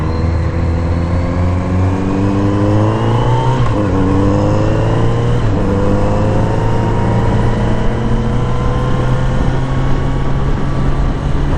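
A 2021 Kawasaki Z900RS motorcycle engine revs hard while riding, its loud, steady drone rising in pitch through the gears with brief dips at the shifts, heard up close and alone.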